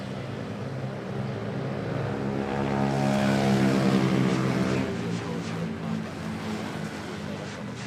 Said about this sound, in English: Here's the A320 arriving from Pagadian. Relatively quiet landing.